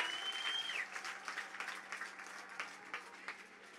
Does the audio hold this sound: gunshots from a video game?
no